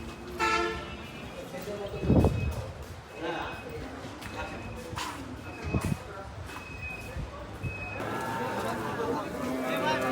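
Cattle at the traditional Aronkhola livestock market in Ishwardi, with occasional lowing and moos among a busy crowd, plus a brief vehicle horn toot and steady market chatter throughout.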